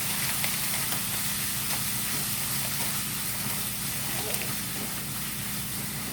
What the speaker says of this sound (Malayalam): നല്ലതായിട്ട് വഴറ്റി കൊടുക്കണം.